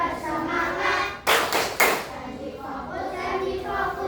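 A class of children performs the 'tepuk janji fokus' clap chant, a few loud, sharp group claps bursting out in a quick pattern midway, with children's voices chattering before and after.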